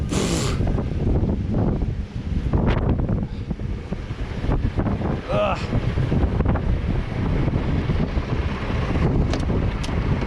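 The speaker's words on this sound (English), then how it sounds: "Wow, that was very dusty wind." Strong dusty wind blasting across a microphone outdoors in central London beside a truck, loud rumbling gusts that persist throughout, with faint voices in places.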